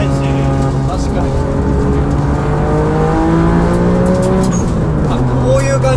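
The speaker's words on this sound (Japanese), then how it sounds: "マフラーもうるさいし" A turbocharged Suzuki Alto HA23V kei car with a loud aftermarket exhaust drones and climbs in pitch as it accelerates, heard from inside the cabin, steady and loud throughout, with voices faintly present.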